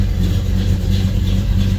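A gas engine in a car owned by the family for twenty years runs steadily, a close, continuous low rumble with a slight swell of revving and no voices.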